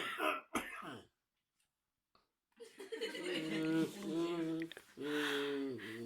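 Someone coughs and clears their throat in a short harsh burst, followed by a pause and then voiced, laughing vocal sounds close to the microphone.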